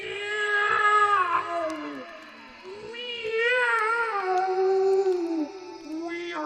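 Shrill demon cats scream and caterwaul in a dark corner of an audio story, a long run of rising and falling yowls, loud and close, carrying on almost without pause.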